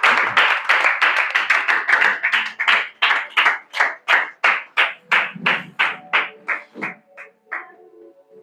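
A church congregation claps together in a steady, loud rhythm to acclaim the Holy Spirit, the quick hand claps slowing and spacing out toward the end with no voices over them.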